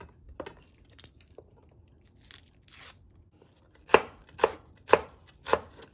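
A knife dices a shallot on a cutting board, starting with light scattered taps and ending in four loud, evenly spaced chops close to the microphone, with no talking.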